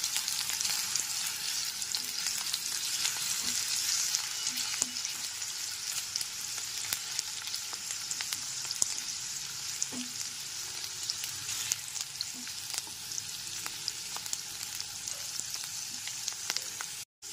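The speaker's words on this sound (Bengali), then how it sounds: "গ্যাসের ফ্লেমটা লো টু মিডিয়ামে রেখে আলুর টুকরোগুলোকে 3 থেকে 4 মিনিট ধরে ভেজে নেব।" Potato pieces fry in a pan on a low-to-medium gas flame, giving a long, steady, fairly quiet sizzle with scattered small pops and crackles throughout.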